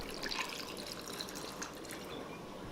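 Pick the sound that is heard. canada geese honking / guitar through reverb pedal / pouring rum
pouring rum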